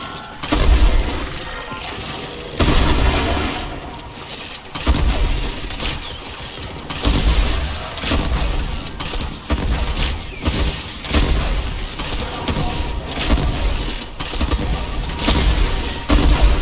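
Primary weapon firing in the Warframe video game, loud repeated bursts of booming gunfire with low-end thumps and mechanical rattles in uneven volleys, separated by short pauses, no talk.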